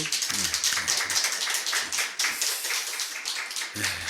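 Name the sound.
church congregation clapping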